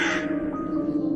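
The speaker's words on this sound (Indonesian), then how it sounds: "suara burung gagak" A crow caws during a nighttime ritual, one harsh call at the start that fades into a steady low hum, loud and close with no voices.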